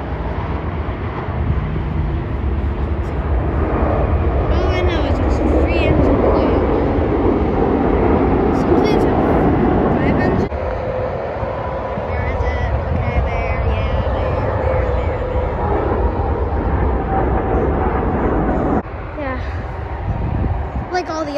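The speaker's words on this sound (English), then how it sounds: "I think it's an MD-11. Could be an MD-10." McDonnell Douglas MD-11 airliner at Newark (EWR) airport, a loud steady jet roar with a broad rumble that holds for the whole stretch, shifting slightly in tone as it passes.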